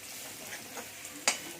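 Chopped onion sautéing in a pan for a dried pigeon-pea curry, a faint, steady sizzle close by with one brief louder clatter near the end.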